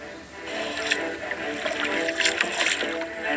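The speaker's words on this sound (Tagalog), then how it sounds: "kailangan ko munang sumakay ng bangka" A small boat glides on water with a steady hiss and gentle splashing, on water holding large goldfish, while soft voices are faintly audible in the background.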